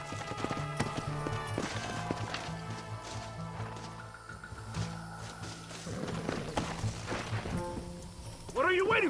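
Horse hooves clip-clopping in the Western video game Red Dead Redemption, rhythmic thuds over background game music and ambience, with people talking and a brief louder burst near the end.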